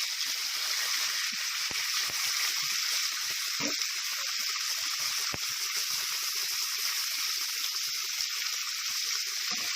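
Fresh fish sizzles and fries steadily in a pan, a dense continuous hiss with small pops and crackles throughout, fairly close and alone with no talking.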